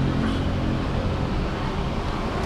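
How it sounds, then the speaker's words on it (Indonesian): Outside street traffic with many motorcycles passing, heard from inside a 2024 Suzuki XL7 Alpha Hybrid; a steady, loud, continuous roar of engines and road noise with no talking. "Berisik kan, banyak motor kan."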